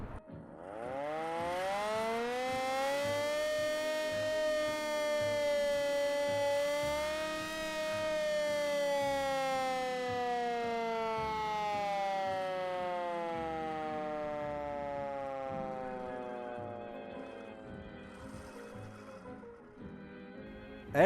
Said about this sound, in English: we have an example here of exactly that form of warning, the air raid siren